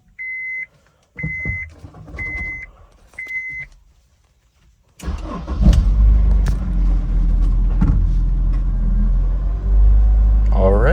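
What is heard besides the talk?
Honda S2000 engine started after clutch flush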